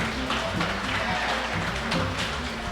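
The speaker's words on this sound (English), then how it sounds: "Give them a round of applause." Audience applause for a band and its backing chorus at a live Caribbean music show, a steady dense wash of clapping from a crowd that holds at an even level throughout with no voices on top.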